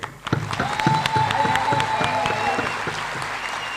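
An audience at a seminar meetup claps. The claps come as scattered, fairly distinct smacks that fall into a loose rhythm, moderately loud, over a faint background hum.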